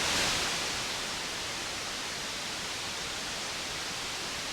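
Synthesizer noise oscillator playing alone, a broad steady hiss with a soft attack that swells and then holds evenly, like distant surf, with no other sounds.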